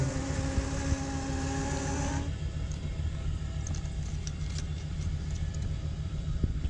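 A Corvette engine idles with a low, uneven rumble and a steady drone. A higher whine drops out partway through, leaving the rough idle running on its own.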